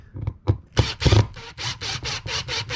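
Faceplate screws are driven into an electrical junction box with a handheld drill during an outlet swap, heard as a string of short, close whirring bursts that settle into a steady rhythmic pulsing, with no talking.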